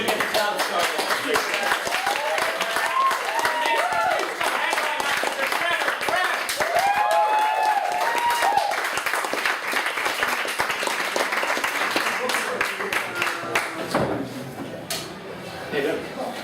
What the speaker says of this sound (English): we told you to get the clap started